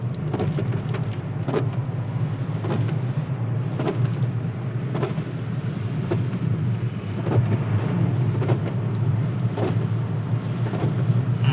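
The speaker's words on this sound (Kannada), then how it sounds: "ಮಳೆರಾಯನ ಆರ್ಭಟವು ಕೂಡ ಅಷ್ಟೇ ಜೋರಾಗೇ ಆಗ್ತಿದೆ" Heavy rain pours steadily and loudly outdoors near the Kalakaleswara temple hill at Gajendragada, a dense continuous wash with a low rumbling undertone and occasional sharper spatters, no voices.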